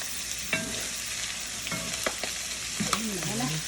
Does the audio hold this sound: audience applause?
no